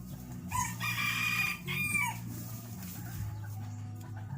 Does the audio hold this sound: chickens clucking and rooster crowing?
yes